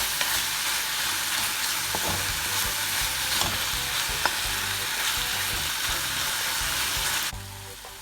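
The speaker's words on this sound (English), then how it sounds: "I'm just gonna stir and combine the seasoning in with the salt mackerel" Salt mackerel and seasoning sizzle loudly in a hot pan while being stirred, a continuous close frying hiss with occasional scraping clicks, easing off abruptly at the end.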